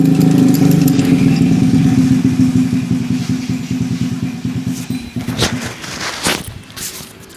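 Several motorcycle engines rumble loudly close by, idling with a throaty beat that gradually eases off, with some clatter at the end.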